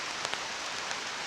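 Steady rain falls outdoors, a dense, even patter of drops hissing on surfaces for a brief moment, with a few slightly louder taps near the start.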